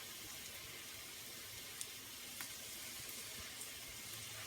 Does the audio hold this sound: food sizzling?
yes